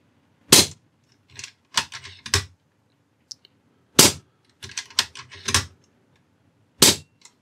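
Three test shots from an AGT Uragan 2 airsoft gun fitted with its original shroud: sharp, close cracks spaced a couple of seconds apart, each followed by quieter clicks and rattles of handling.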